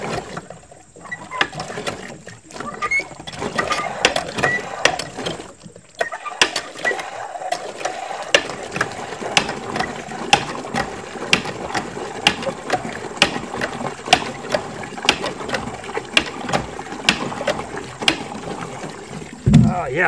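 Hand well pump worked at a cabin after a repair, giving a steady series of regular mechanical clanks and ratcheting strokes, close and fairly loud, with faint background noise between strokes.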